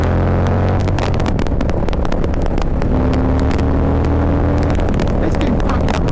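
A 2021 Harley-Davidson Softail Low Rider S motorcycle accelerates hard, its loud, close engine roar climbing through the gears with a steady low rumble and rising pitch, wind buffeting over it.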